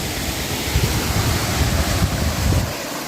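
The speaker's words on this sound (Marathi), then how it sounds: "हा आपण आता धबधब्याच्या जवळ आलेलो आहोत" A constant rushing roar of falling water from Ghapki Waterfall near Pali fills the air, with gusts of wind buffeting close by.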